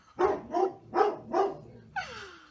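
Pet dog barking indoors, four loud, close barks in an even rhythm followed by a rising whine-like yip.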